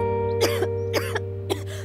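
Man coughing in a cough syrup advert: three short, dry coughs, evenly spaced and close, over a steady low hum, with no speech.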